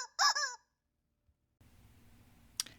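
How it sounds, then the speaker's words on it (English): A squeaky rubber chicken gives one loud, brief honking squeak near the start, then near silence, followed by a low hum and a sharp click near the end. "Sometimes with a squeaky rubber chicken or two"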